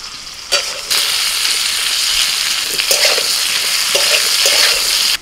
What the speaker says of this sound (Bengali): সিম, ডাঁটা, বিনস আর হচ্ছে পেঁপে এবার একসাথে ভেজে নেব